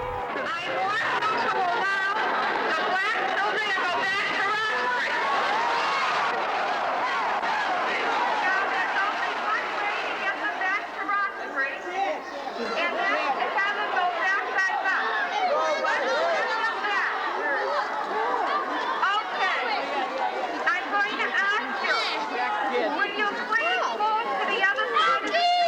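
A crowd of South Boston residents gathered outside a school during a 1970s desegregation confrontation, loud overlapping shouting and chatter with many voices close and constant throughout.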